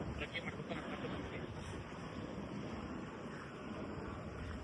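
Strong wind sweeps across a hilltop near the Bettada Malleshwara Swami temple above the Tungabhadra river, buffeting the microphone in a continuous, low, blustery roar.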